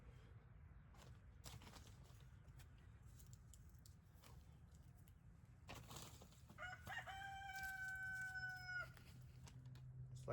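A rooster crows once in the middle distance, a harmonic call lasting a couple of seconds, set against steady background clucking and murmuring from backyard chickens; no one talks.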